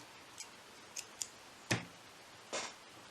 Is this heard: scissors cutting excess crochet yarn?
yes